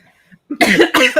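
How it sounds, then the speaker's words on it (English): A single close, loud cough in two rough bursts, following a few faint quiet sounds. "I'm coughing"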